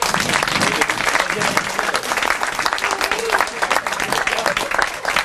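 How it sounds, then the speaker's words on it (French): Dense, steady applause from an audience at an evening singing contest in a cabaret venue, sustained and fairly loud throughout the whole stretch without a break. "Je vous demande d'applaudir Greg Pfeffer."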